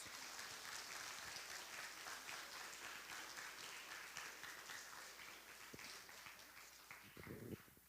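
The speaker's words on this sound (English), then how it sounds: "we can give those guys a big round of applause" Applause for academic award recipients at a school awards ceremony: steady, dense clapping from an audience that keeps an even level throughout and swells slightly near the end.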